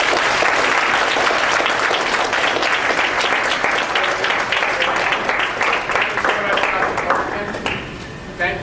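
Applause from the audience for a panel at a discussion event, dense and continuous clapping that holds steady for several seconds and then gradually thins out toward the end.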